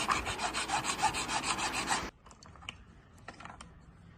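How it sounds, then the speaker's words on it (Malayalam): A hacksaw blade cuts through a coconut shell in steady, rhythmic rasping strokes for about two seconds, then stops, leaving faint scattered handling noises. "ഇതേപോലെ ആക്സോ ബ്ലേഡ് കൊണ്ട് കട്ട് ചെയ്തെടുക്കാം."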